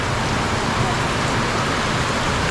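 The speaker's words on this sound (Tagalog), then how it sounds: "Ito, umulan na naman." Steady rain pours down at a rural provincial house in the Philippines during a hot summer shower, a dense even hiss of drops spread over the whole clip with no break, close and fairly loud.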